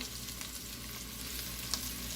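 Beef pieces sear and brown in a pot for boeuf bourguignon, giving a steady, close, continuous sizzle and crackle of frying meat with no talking.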